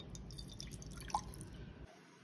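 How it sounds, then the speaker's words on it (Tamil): Water trickles and drips into a kadai pan in a home kitchen, a quiet close pour with a single brighter splash midway before it stops abruptly. "ஒரு கடாயில் கொஞ்சம் தண்ணி ஊற்றிங்கோ"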